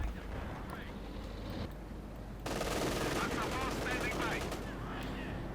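In a snowy Company of Heroes 2 match, a .50 caliber machine gun opens up in dense, rapid bursts. The rattle swells after a quieter stretch of muffled battle noise and wind and keeps going steadily to the end.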